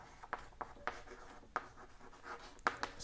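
A pen or pencil writing by hand on a surface, producing short scratchy strokes in an irregular rhythm, close and fairly quiet, with no talking.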